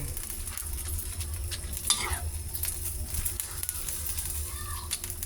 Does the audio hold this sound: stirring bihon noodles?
yes